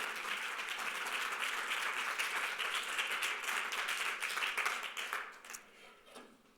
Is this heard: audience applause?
yes